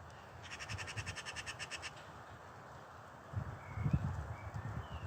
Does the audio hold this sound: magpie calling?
yes